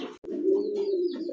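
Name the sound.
Damascene pigeons cooing at pigeon farm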